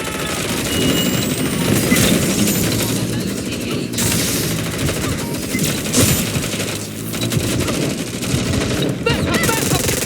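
Rapid gunfire from the Watch Dogs: Legion video game rattles on continuously in dense overlapping bursts, loud and close, with voices occasionally audible through the shooting.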